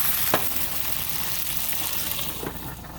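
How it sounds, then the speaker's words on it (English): Chicken pieces browning in a big skillet on the stove, a steady close sizzle and crackle with a few brief sharper pops, no voices. "what I'm doing is browning this chicken off first in the big skillet here"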